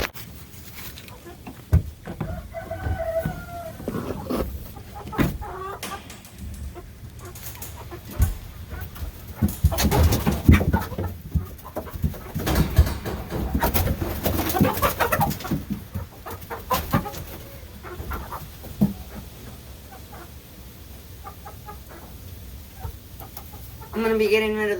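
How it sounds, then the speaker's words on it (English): Chickens being caught by hand for moving to a winter home, with scattered clucks and squawks, bursts of flapping and scuffling, and louder commotion in the middle, heard fairly close amid quiet background. "I guess I'll get to catching chickens."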